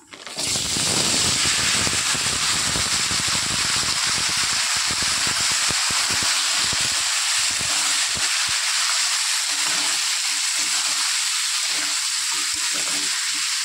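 Pumpkin and potato pieces sizzle steadily in hot oil with tempered five-spice, dried red chilli and bay leaf, a loud continuous frying hiss with crackling that holds evenly throughout.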